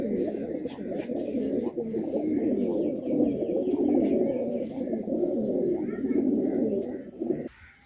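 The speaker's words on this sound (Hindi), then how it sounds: "ये देखें दोस्तों एक ज़बरदस्त पबई खाल कबूतर भी मौजूद है।" Pigeons coo in a steady, throaty murmur close by, with a few faint chirps on top, as someone talks over them.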